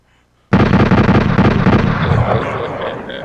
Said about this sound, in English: I need some gunshots, too.